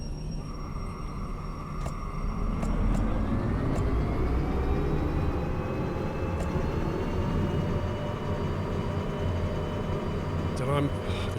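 A train rumbles past in the Derail Valley game, a continuous loud rolling drone with a rising whine that holds steady for about eleven seconds.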